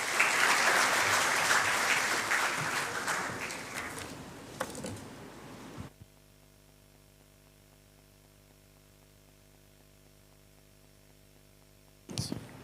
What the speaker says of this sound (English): Please join me in welcoming Shri Pradeep Soni with a big round of applause